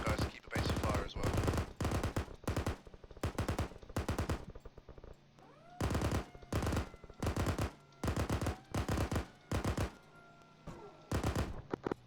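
Machine gun fire in the video game Arma 3, loud repeated bursts of rapid shots separated by short pauses, each burst sharp and close.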